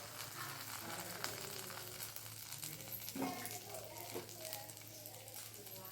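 Cabbage urad dal vada batter dropped into hot oil, giving a steady low sizzle and bubbling with a brief splash of added batter partway through, close and moderate in level.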